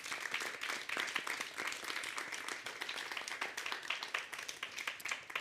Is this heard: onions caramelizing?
no